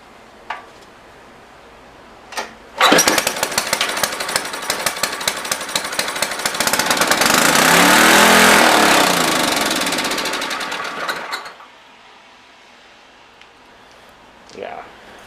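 A 5000-watt generator with a starting fault, choke on, roars to life after a couple of faint clicks and runs with a loud, rough, knocking rattle for about nine seconds before cutting out to quiet.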